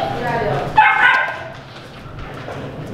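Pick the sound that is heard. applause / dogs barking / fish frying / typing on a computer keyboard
dogs barking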